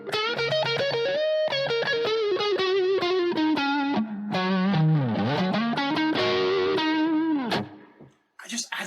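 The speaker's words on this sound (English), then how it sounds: "So we're going to add some overdrive." An overdriven electric guitar playing a melodic line of plucked notes and bends, saturated and sustained, up close and loud, ending in a short pause and a scrape.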